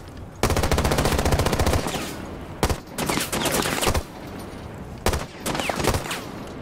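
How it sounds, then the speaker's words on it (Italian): Loud, close bursts of rapid automatic gunfire from the video game Rainbow Six Siege come in three separate volleys with short pauses between them, and no talking. "Gianfranco, mi stanno sparando anche se non mi vedono."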